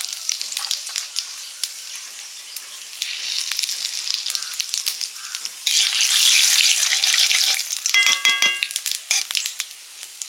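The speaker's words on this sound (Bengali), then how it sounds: "তেলে চিনি দিলাম, একটুখানি জিরে," Sugar and cumin seeds sizzling in hot oil, a bright crackling fry with scattered pops and a brief louder burst near the end, no speech.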